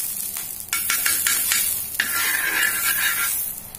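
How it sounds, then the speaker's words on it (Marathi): Butter hits a tava that has been heating on the gas for ten minutes and sizzles loudly, ready for toasting a street-style veg sandwich. A few light scraping and stirring knocks come first, then a sustained hiss with no talking. "तर आता आपण याच्यावरती थोडं बटर घालूया."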